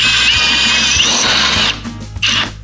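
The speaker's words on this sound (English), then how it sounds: "there is a tool, a little drill bit, especially for that" A power drill whines loudly as it bores into an old door, then cuts off briefly and restarts for a short burst, close by.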